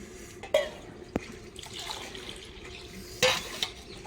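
Washed saag greens tipped into a cooking pot with a little water: soft splashes and stirring with a few sharp clinks of a utensil against the pot, fairly quiet and spread across the moment.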